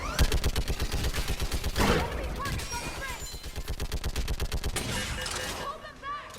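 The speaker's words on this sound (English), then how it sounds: "Get on that gun up there and do some damage." Mounted gun firing in Mass Effect 3, a loud rapid rhythmic burst of shots repeating steadily for several seconds, with faint game voices and effects underneath.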